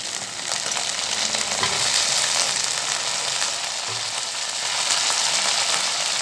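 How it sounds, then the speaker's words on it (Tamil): Eggplant and drumstick pieces frying in hot oil for a spicy Tamil spinach curry, a steady close sizzle with occasional soft stirring scrapes, no voices. "இதை போட்டு நல்லா இந்த ஆயிலில் நல்லா கிளறி கொடுக்கலாம்"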